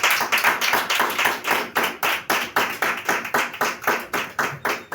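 A church congregation clapping together in a steady, fast rhythm to acclaim the Lord, with loud, evenly spaced claps that repeat without a break throughout.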